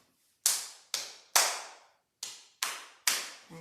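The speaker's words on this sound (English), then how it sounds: "can you just clap it back for me?" A student claps back a rhythm: six crisp, close hand claps, three in a quick group, a short pause, then three more, each ringing briefly in a quiet room.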